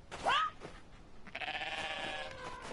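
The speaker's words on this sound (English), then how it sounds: "Oh wait, goat." A goat bleats in the video game Everything, first as a short wavering cry and then as a longer, sustained bleat, moderately loud with no talk over it.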